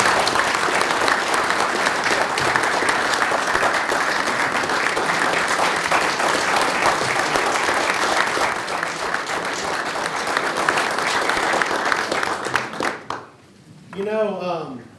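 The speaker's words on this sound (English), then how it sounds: "we can go ahead and give you a round of applause right now" A crowd at a Jackson-Madison County, Tennessee commission meeting gives sustained, dense applause for the 2022 Madison County Farmer of the Year, steady and loud before breaking off near the end, when a voice briefly speaks.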